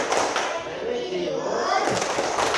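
A school class performing a rhythmic clapping chant, with groups of sharp hand claps alongside children's chanting voices.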